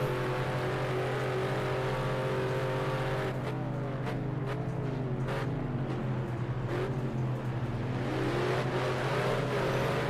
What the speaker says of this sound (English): roars of this Panos GT1